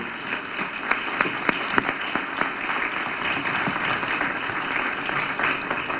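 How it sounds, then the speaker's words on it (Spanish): Steady applause from a conference audience fills the room, dense clapping running evenly throughout with a few sharper claps standing out, no speech over it. "Le han regalado un aplauso cuando subió, le podemos regalar otro ahora que está ubicado"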